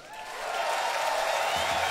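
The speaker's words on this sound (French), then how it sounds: "Un max d'applaudissements." Concert audience applauding at a rock show in Berlin, a broad dense wash of crowd noise that swells in the first half-second and then holds steady and loud, with cheering mixed into the clapping.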